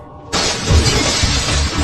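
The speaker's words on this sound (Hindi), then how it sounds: "ट्रक ने जोरदार आवाज के साथ कार को टक्कर मार दी।" Truck slamming into a car with a sudden loud burst of shattering glass, breaking into a dense, sustained crash and crunch that continues to the end.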